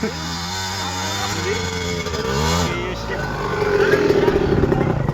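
A trail motorcycle engine revs loudly and close by, its pitch rising and falling as the throttle opens and eases off.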